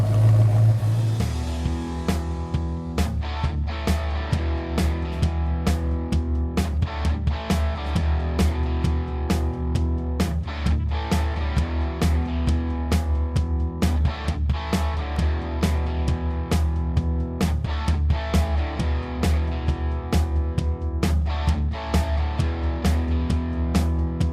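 1967 Ford Mustang Fastback restomod with a MagnaFlow exhaust, cross pipe, factory tips and stock Cleveland manifolds on a test drive, a steady low V8 drone with repeated sharp clicks and knocks over the engine, no talk.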